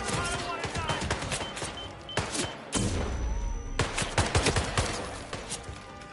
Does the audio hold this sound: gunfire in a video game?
yes